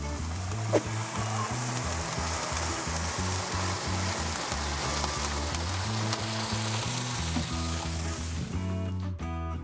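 Venison pieces sear in a pot with water added for stock, giving a steady, close sizzling and bubbling hiss that runs continuously before cutting off at the end.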